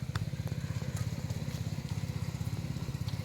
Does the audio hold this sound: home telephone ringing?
no